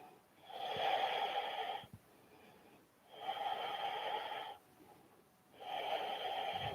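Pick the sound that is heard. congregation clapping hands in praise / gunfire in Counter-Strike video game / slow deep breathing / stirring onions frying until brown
slow deep breathing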